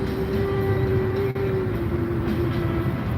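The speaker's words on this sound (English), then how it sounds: "And there's a train." A train passing nearby, a steady loud rolling rumble with a sustained tonal whine over it and a brief dropout midway.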